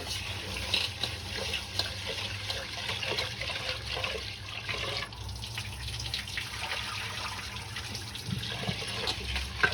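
Rice being washed in water for biryani, a steady close swishing and sloshing of water with faint drips throughout, no voices.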